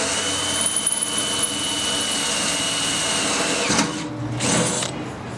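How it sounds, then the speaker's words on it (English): A power drill bores a 5 mm pilot hole in metal for an M6 tap while building a wood and charcoal barbecue firebox, with a sustained high whine that briefly drops and restarts near the end. "I need to drill a 5mm hole so that I can tap for the 6mm"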